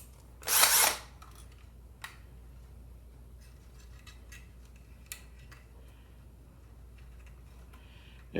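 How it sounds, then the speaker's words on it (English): A power drill runs in one short, loud burst while drilling into a robot model with wires inside, followed by quiet faint clicks and handling noises. "And the last thing I want to do is snag a bunch of these wires with my drill."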